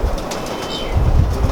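A pigeon at a Lahore pigeon loft flaps its wings, a brief soft flutter of low thumps in the latter half over a faint outdoor background.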